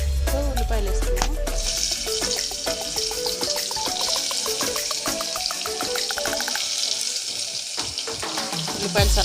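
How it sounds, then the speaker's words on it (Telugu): Sliced onions sizzle and crackle in hot oil with cumin in a pan while egg pulusu is being cooked, a steady loud frying hiss running throughout. "ఉల్లిపాయలు వేస్తున్నాము."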